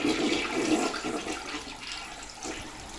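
A builder grade toilet in a hotel room flushes with a steady rushing gush of water, close and fairly quiet, running continuously for a few seconds with no voices.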